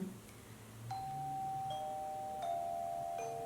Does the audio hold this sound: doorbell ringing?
yes